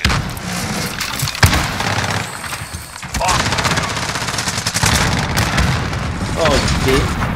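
Gunfire and heavy booms sound continuously in a video game match as a bomb goes off, with dense, loud bursts of rapid shots and explosions layered through the whole stretch. A voice talks over part of it.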